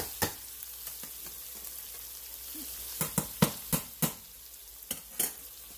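Rice being stir-fried with cooked shrimp in a hot pan, a steady soft sizzle broken by a series of sharp scraping and clattering stirs that grow more frequent toward the end, close up with no talking.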